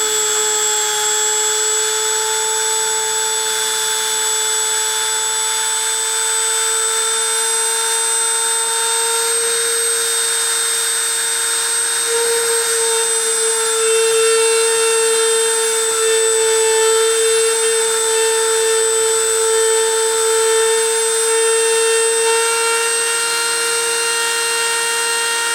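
A deposition machine running steadily, with loud, constant whining tones and a continuous mechanical drone. The pitch shifts slightly partway through, and the sound is close and unbroken.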